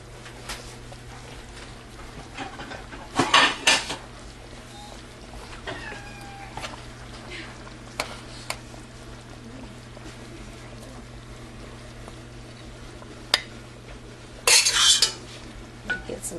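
Utensils clink and scrape against dishes while Dijon chicken and egg noodles are served onto a plate, brief metallic clatters scattered over a quiet kitchen with a steady low hum.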